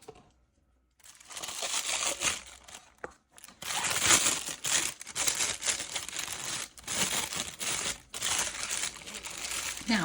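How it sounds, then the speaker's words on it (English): A plastic resin piping bag crinkles and rustles as it is handled and its tip is cut off with scissors, with close, steady crackling broken by a few brief pauses. "cutting the tip off this bag"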